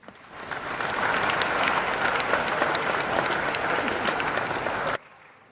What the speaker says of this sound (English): Shall we once again applaud the faculty?